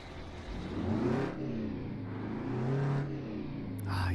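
Custom truck engine sound in American Truck Simulator, revving up and easing off in two swelling surges with a steady mid-pitched drone between them, loud and close with no talking.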